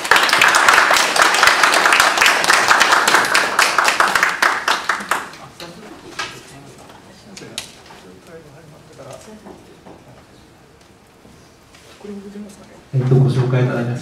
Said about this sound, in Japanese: どうぞ拍手でお願いします。